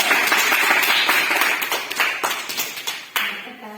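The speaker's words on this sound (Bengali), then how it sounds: "তো তারা বলছে তাই সবাই হাততালি দেয়" A group of people at a gathering with working mothers and sisters claps together in a dense burst of applause that thins out into scattered, fading claps near the end.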